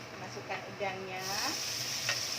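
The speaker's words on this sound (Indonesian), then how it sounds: "setelah bawang putihnya berbau harum, masukkan udangnya ya" Shrimp go into a pan of fragrant fried garlic in a little oil for stir-frying, a soft sizzle that swells partway through with light stirring scrapes, fairly quiet and close.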